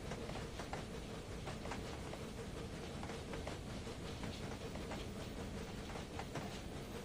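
A classic 4-4-0 steam locomotive running in the Train Simulator Classic game gives a faint, steady rolling rumble with rhythmic clickety-clack wheel beats and a soft hiss throughout.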